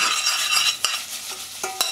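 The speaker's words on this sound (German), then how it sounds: "So, kommt das Möhren, das Fenchelgrün rein. Zack. Muss man einmal durchschwenken." Glazed carrots tossed with fennel greens in a hot pan: a continuous bright sizzle with a few soft clinks and knocks as the vegetables are swirled, close and moderately loud, with no talking.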